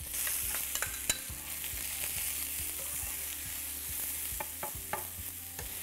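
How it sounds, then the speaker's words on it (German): Sliced onion strips frying in a pan alongside fennel, with a steady sizzle broken by sharp clicks and scrapes of stirring, fairly close and moderately loud, no voices. "Während die Zwiebeln hier kurz mitbraten"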